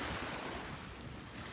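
Ocean surf washing onto a shore, a steady broadband wash with wind noise buffeting the microphone, fairly quiet and continuous with no voices.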